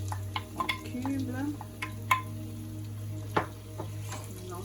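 Cubed chicken sausage and spinach being stirred in a pan make a quiet, low sizzle under a steady hum, with soft scattered scrapes and clicks of the utensil against the pan.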